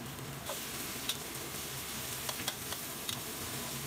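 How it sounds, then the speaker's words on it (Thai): Minced pork stir-frying in a pan with onion for a spaghetti sauce, a soft steady sizzle with occasional light clicks and scrapes of a spatula, no talk. "ผัดหมูสับให้สุกนะคะ"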